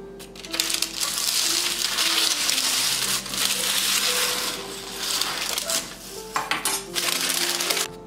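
Crunchy crackling and clattering as a crusty chocolate sourdough loaf is lifted out of a cooking pot, with soft music playing underneath.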